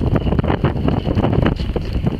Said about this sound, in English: it really is quite windy